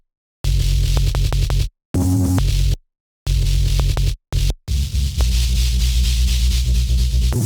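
Drum and bass bass patch driven through overdrive distortion, loud gritty buzzing notes played in short chopped phrases separated by silent gaps, then a longer sustained distorted stretch.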